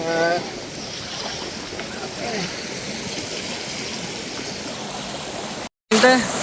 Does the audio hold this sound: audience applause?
no